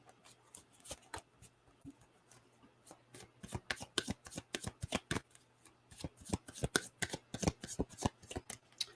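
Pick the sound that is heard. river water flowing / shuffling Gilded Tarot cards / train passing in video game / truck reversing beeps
shuffling Gilded Tarot cards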